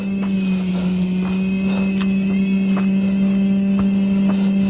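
A Yarbo autonomous robotic snow blower clears a packed, icy driveway with a steady droning motor hum and faint intermittent scraping ticks, heard continuously at moderate distance.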